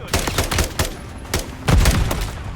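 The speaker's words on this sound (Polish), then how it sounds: "Стреляют!" Rapid bursts of gunfire in the video game Call of Duty: Modern Warfare 3 crack in quick succession, loud and close, with irregular spacing between volleys.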